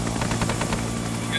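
Helicopter rotor drone with rapid bursts of door-gun fire in an Arma 3 Vietnam-era mission, a steady loud mechanical roar with repeated sharp shots layered over it, and voices talking.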